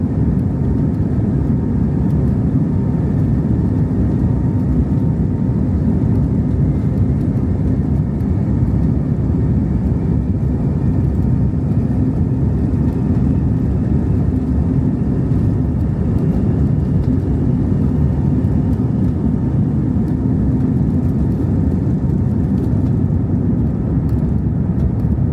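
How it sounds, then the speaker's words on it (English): An airplane accelerating down the runway on its takeoff roll gives a loud, continuous engine roar with a steady rumbling whoosh, heard close and unbroken from start to finish with no talk. "Then they reach VR, which is rotate, when the nose of the aircraft will lift up ready to get into the air"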